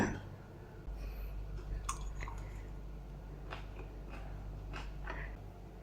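Someone chews a spoonful of Lao vegetable soup with beans, making soft, moist, close-up mouth sounds over a low background hum.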